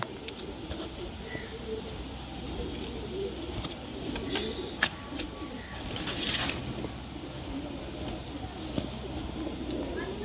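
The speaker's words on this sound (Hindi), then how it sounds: "ओरिजिनल बटेरा कबूतर है ये।" A batera pigeon coos softly at a pigeon-keeping spot, low murmuring calls under faint background noise, with a few light clicks and rustles.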